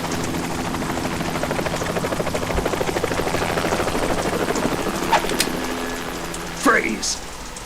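A helicopter in the video game Metal Gear Solid 2, on a tanker, gives a steady chopping rotor drone with heavy rain-like noise throughout, with a few brief sharp effects near the end.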